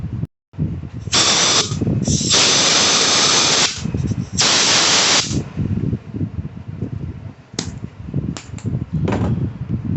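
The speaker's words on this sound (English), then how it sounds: "I'm going to use some air to blow it out" Compressed air blasts through the carburetor of a Remington RM2570 string trimmer in three long, loud hissing bursts, then a few short, sharp puffs near the end.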